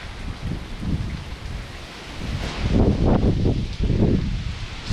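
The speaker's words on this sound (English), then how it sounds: "This is the storm, and as you can see, the gusts come and the gusts go." Hurricane Laura batters Louisiana at night, with steady rain and wind gusts that surge and fade, rising to a louder roar in the second half, no voices.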